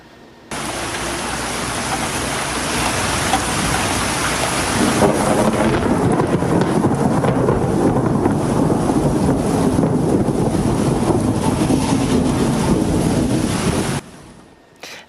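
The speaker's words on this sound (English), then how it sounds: "That thunder sounding off for about 4 seconds after that lightning strike over Glendale." Rolling thunder rumbling loudly and continuously after a lightning strike over Glendale during a rare thunderstorm, a long dense roar with wind buffeting the microphone that fades out abruptly near the end.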